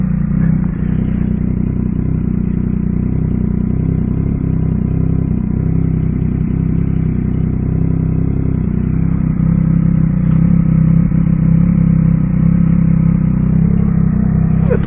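A Yamaha MT-09 motorcycle engine runs steadily close by, a continuous low rumbling drone at an even pitch with slight clatter, heard alone with no talking.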